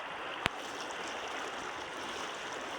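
Steady broadband rushing of a clean flowing river, continuous and fairly even, with one brief sharp click near the start.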